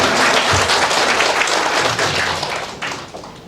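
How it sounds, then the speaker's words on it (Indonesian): Loud, dense audience applause at a university graduation ceremony, steady clapping from a large crowd that eases slightly toward the end. "Ya, tepuk tangan semuanya."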